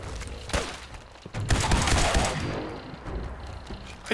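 Repeated gunfire in Fallout 4 comes as loud, close shots in an uneven burst, with booming impacts and clattering debris between them.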